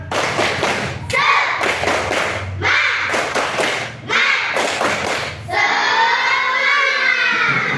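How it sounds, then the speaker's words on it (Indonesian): A school class performs a rhythmic spirit clap (tepuk semangat), with sharp group claps and thumps set in a beat and mixed with loud chanted voices of children. It ends with a sustained shout. "Yuk kita tepuk semangat"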